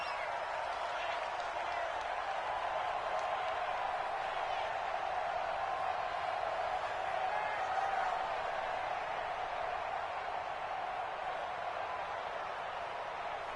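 Stadium crowd noise from an American football video game on PS4, a steady, moderately loud roar with no breaks and a brief swell midway, lasting about fourteen seconds.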